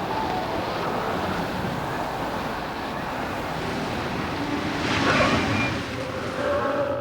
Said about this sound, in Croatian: Jako puše.